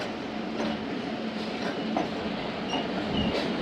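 Thal Express passenger train running on the Multan–Kundian section, a steady close rumble of wheels on rails with faint rhythmic clatter throughout, no voices.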